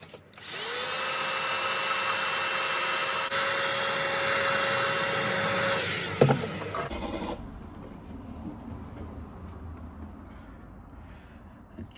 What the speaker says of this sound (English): But it involves the heat gun.